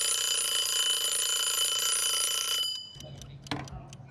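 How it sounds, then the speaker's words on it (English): A one-act timer rings with a steady, bright electronic tone that holds for under three seconds, then cuts off, leaving faint room noise and a brief knock. "5 minutes, one act timer, when it rings, the story ends."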